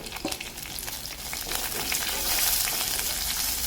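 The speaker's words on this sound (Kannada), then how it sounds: "ಸ್ವಲ್ಪ ಹೊತ್ತಿದನ್ನು ಫ್ರೈ ಮಾಡುವ ನೋಡಿ ಹಾಗೆಯೇ ಇದಕ್ಕೆ ನಾನು ನೋಡಿ ಕಟ್ ಮಾಡಿಟ್ಟಂತಹ ಶುಂಠಿಯನ್ನು ಕೂಡ ಇದಕ್ಕೆ ಆ್ಯಡ್ ಮಾಡ್ತಾ ಇದ್ದೇನೆ" Chopped ginger frying in a pan for tomato rasam gives a steady sizzle that swells a little louder partway through, with scattered stir clatters and no talk.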